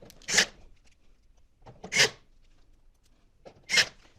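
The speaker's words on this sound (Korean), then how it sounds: "다음 자 상단 커버 조립해 주겠습니다 나사 하나 둘 세 개 조립해 줍니다" Screws being driven by hand into the top cover of an LG Objet Collection dual unit during assembly: three separate rasping turns spaced about 1.7 seconds apart, close and fairly loud, with quiet between.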